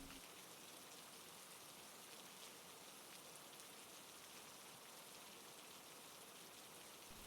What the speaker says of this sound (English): through the steady thrumming of the rain